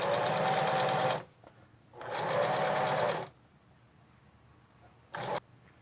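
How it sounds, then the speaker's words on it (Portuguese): Sewing machine stitching a straight seam through fabric scraps for a rag rug, two loud rapid bursts of mechanical whirring separated by a pause, then a brief final spurt after a quieter stretch. "vai passar a costurinha reta aqui"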